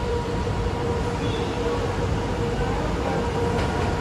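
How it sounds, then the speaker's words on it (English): An airport train pulls into the Terminal 1 station at Changi Airport, Singapore, giving a steady, fairly loud rumble with a sustained mechanical hum that holds even throughout, with no distinct voices over it. "Dating na yung train papuntang airport, Terminal 1."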